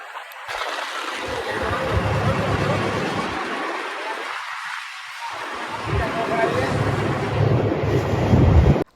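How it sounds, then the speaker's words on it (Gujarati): A boat ride on the open sea near Shiyalbet village, with heavy wind rumble and engine and water noise roaring steadily, easing briefly midway before building louder again. "આપણે બોટમાં એને મજા લેતા લેતા જઈએ છે"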